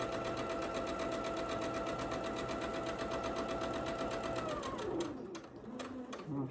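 A sewing machine stitches a seam on a charm pack quilt, humming steadily at close range, then slows and winds down near the end as the stitching stops.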